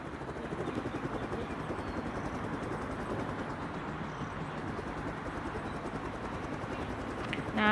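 Helicopter in the video game Rope Hero Vice Town, a continuous rotor drone and whine holding steady and fairly loud throughout, with no talk over it.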